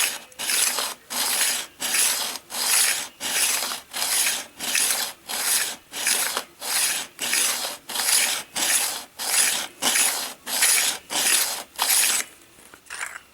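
A Berghman ice skate sharpener works back and forth along the blades of CCM 952 hockey skates, giving a steady series of about eighteen loud, even rasping strokes, close up, with no voices.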